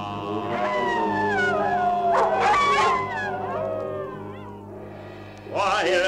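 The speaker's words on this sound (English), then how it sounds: "While the wolf in nightly prowl bays the moon with hideous howl." A wolf howls in long, wavering, rising and falling cries, loud and close, pausing briefly before another howl begins.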